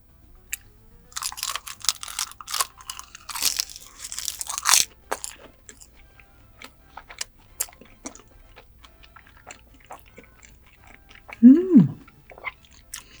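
Rice wrapped in seaweed being chewed close to the mic, with crisp crunchy bites clustered early, then quieter sparse chewing and a brief hummed murmur near the end.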